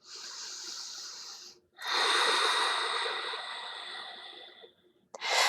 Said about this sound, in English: Another deep breath.